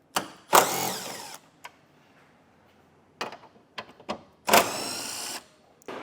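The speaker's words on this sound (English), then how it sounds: "Then you'll take a 10mm socket and remove these screws off the top of our grill." A power tool with a 10mm socket backing screws off the top grille of a 2024 Chevrolet Silverado, two loud whirring bursts with quieter clicks and handling knocks between them.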